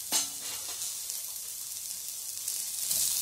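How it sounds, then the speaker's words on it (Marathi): Chopped onion roasts in a hot pan until reddish, giving a steady, close hiss and sizzle with light stirring scrapes throughout. "लालसर होईपर्यंत कांदा आपल्याला भाजून घ्यायचा आहे"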